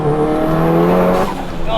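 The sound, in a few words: 700HP big turbo Audi S1 accelerating hard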